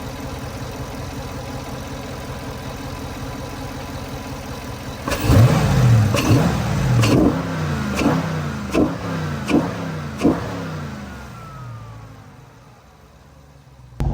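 A 2019 Dodge Charger Daytona 392 engine idles steadily, recorded from the rear, then a series of sharp revs rise and fall about once a second before the engine settles back and fades toward silence.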